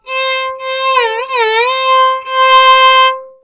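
Carnatic violin sliding between the ga and pa notes of a Mohanam geetham, heard alone and close, with sustained bowed tones and gliding oscillations in a few connected phrases.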